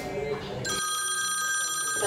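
A telephone rings with a steady, bright electronic tone that starts about a third of the way in and holds at a constant, fairly loud level. A faint murmur of voices comes before it.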